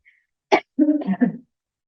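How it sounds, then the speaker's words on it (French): A single short cough, close and dry, followed by a brief throat-clearing rumble; otherwise quiet. "je vais tousser un bon coup"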